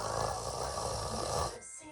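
A voice imitates a man's snoring during a read-aloud, a single drawn-out, rumbling snore close to the mic that cuts off abruptly near the end.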